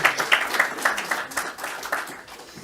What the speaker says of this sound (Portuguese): uma salva de palmas já agora